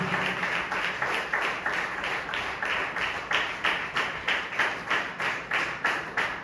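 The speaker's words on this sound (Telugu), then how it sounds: "అందరు చప్పట్లు కొట్టి ప్రభువుని కనపరచుదాం" A church congregation clapping together during a Sunday service, a steady rhythmic beat of many hands, roughly two claps per second, sustained and fairly loud throughout.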